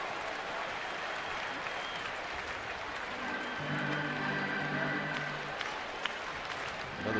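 A sellout crowd at a San Francisco Giants home baseball game against Houston gives steady, distant-sounding applause and cheering that runs the whole way through, with faint murmurs and a few scattered shouts under it.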